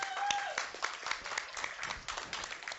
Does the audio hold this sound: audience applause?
yes